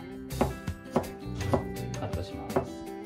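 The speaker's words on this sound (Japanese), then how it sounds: "今回はちょっと大きめにこう包丁の背で潰してあげて" A kitchen knife repeatedly strikes a cutting board while a garlic clove is crushed with the back of the blade, giving sharp, uneven knocks close by, about a half-second apart.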